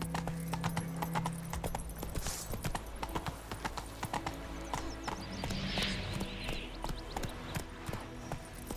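Roach the horse galloping in The Witcher 3, a rapid, steady clip-clop of hooves close by, with a brief whinny and faint voices underneath.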